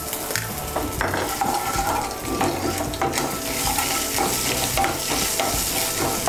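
Peanuts and grated ginger frying in a pan, a continuous close sizzle with spatula scrapes and stirring clatter throughout, fairly loud, no voices.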